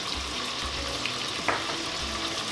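Pork belly frying in a hot pan for Chinese braised pork belly, a steady close sizzle with a faint scrape partway through and no talking.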